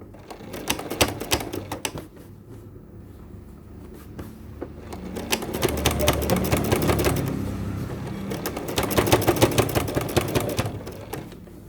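A sewing machine stitches a skirt seam in rapid rattling bursts, pausing briefly and then running again at a steady fast clatter, close and fairly loud.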